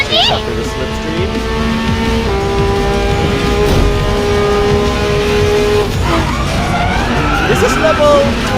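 A LaFerrari race car engine in the mobile racing game Racing Master drones with steady harmonic pitch steps as gears shift, then a rising rev near the end, loud and continuous under game music and effects.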